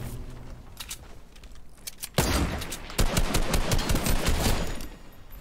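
Gunfire in the battle royale game Fortnite, a loud, dense stretch of rapid shots that swells sharply around the middle and stays heavy to the end, with no talking.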